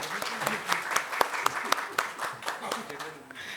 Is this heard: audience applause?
yes